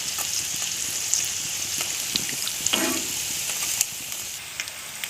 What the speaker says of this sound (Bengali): তো আমার চিকেন রোলও ভাজা হয়ে গেছে।